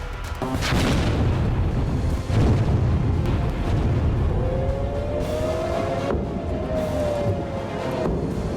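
Missile strikes and explosions in war footage from Iran: continuous heavy rumbling booms, loud and dense, with a rising whistling tone late on.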